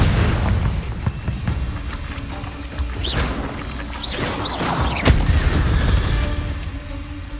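In the Hogwarts Legacy video game, Confringo blast spells explode with heavy booming bursts and crashing impacts, mixed with whooshing magic effects over a dense, loud game soundscape.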